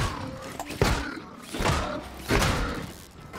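Melee hits striking a haybot in the Scrap Mechanic video game: three dull thudding impacts land roughly a second apart, each followed by a short rattling clatter, moderately close.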